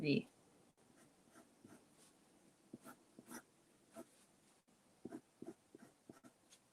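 A pencil or pen scratches in short strokes across paper while an artist redraws the outer edges of a bumblebee character's helmet, with scattered close scribbles and a brief faint voice at the start.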